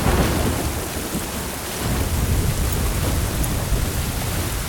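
A heavy thunderstorm roars steadily with dense downpouring rain and low rumbling thunder beside a swollen river, loud and continuous throughout with no voices.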